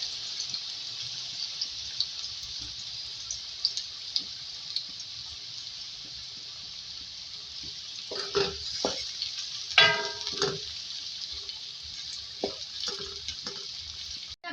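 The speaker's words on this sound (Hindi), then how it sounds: "आप देख सकते हैं हमारी जो प्याज है हाफ फ्राई हो चुकी है" Four medium onions frying in oil in a pan for beef aloo gosht, a steady faint sizzle with a few louder clatters of stirring near the end.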